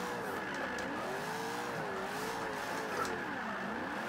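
A car drifting in Forza 5 with a long, continuous tire squeal that wavers in pitch over a steady engine roar, loud and close throughout.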